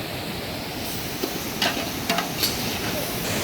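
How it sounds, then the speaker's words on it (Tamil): Onions and tomatoes sizzle steadily in a frying pan with a continuous hiss, broken by a few sharp scrapes and clinks of stirring partway through, with no talking. "இப்போ வெங்காயம் தக்காளி நல்லா வதங்கி மசிஞ்ச பதத்துக்கு வரணும்"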